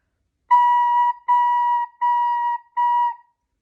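Four sustained, breathy recorder notes at the same pitch, each about half a second long with short gaps between, clear and close.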